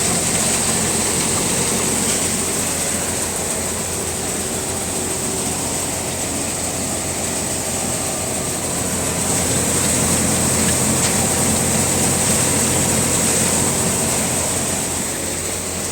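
A tractor-driven double-sieve combo thresher works through mustard, a steady mechanical roar with a high whine on top, continuous and close, with no pauses.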